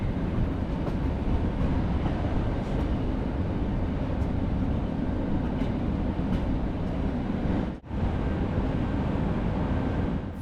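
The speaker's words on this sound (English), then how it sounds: "We are now arriving at Budapest Keleti pályaudvar, which simply means Budapest Eastern Railway Station." A train pulls into Budapest Keleti railway station, a steady loud rumble of wheels and carriage noise that runs throughout and briefly drops out near the end.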